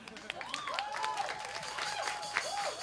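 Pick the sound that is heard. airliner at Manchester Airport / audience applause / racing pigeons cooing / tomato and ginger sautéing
audience applause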